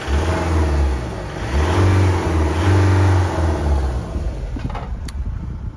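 Engine of a former fire-service Fiat Ducato Maxi van turning over and revving, a loud, steady mid-pitched drone that swells and holds before tapering into rougher idle near the end.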